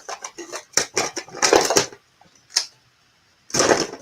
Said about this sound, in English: I'm still rustling through my desk,